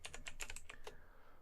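Rapid typing on a computer keyboard as a file name is entered during a synth backup, roughly a dozen quick, close key clicks in a short burst, then silence.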